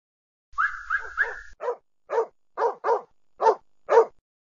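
A pack of hunting dogs barks during a chase after a jaguar, several overlapping yelps at first, then a run of loud, separate barks spaced about half a second apart, close by.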